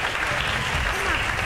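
Audience applause at a Slovak competition semifinal, a steady wash of clapping from a seated crowd filling the whole moment without a break, loud and even throughout.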